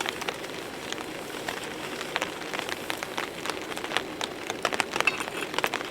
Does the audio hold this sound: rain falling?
yes